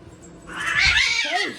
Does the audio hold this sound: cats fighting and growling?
yes